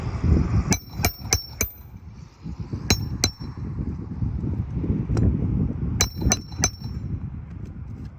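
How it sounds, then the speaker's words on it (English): A hammer drives a nail during a repair, striking in sharp ringing metallic taps that come in quick bursts of three or four blows separated by pauses, close over a low rumble of background noise. "Okay, last nail."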